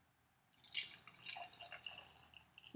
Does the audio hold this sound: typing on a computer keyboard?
no